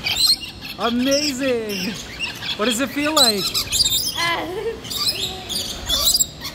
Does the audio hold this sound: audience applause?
no